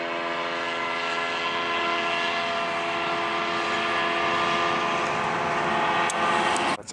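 A small aircraft turns and heads toward the mountains over a ranch, its engine a steady, humming drone with a buzzy tone that holds at an even, moderate distance throughout.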